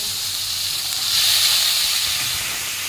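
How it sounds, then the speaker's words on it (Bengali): Spice paste of coriander powder, chopped ginger and a splash of water frying in a pan, giving a steady broad hiss that swells louder midway and then eases, with no voices. "মশলাটা ভালো করে কষিয়ে নেব"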